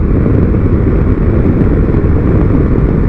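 Steady motorcycle engine drone on the road in fifth gear as the rider rolls the throttle on and off, a continuous loud hum with little variation and no voices.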